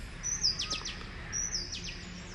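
Birds chirping in a green hill forest, two bright bursts of high tweets about a second apart over a faint, steady background.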